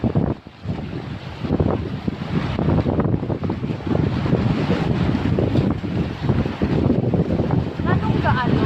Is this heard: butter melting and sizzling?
no